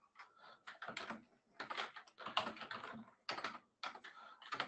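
Someone types a password into a computer keyboard in several quick bursts of close, crisp keystrokes separated by short pauses, with no talking.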